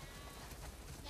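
Sheep bleating in The Last of Us Part II, several muffled overlapping bleats close by over a noisy background with a faint voice mixed in.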